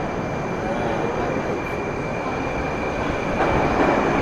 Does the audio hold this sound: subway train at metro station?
yes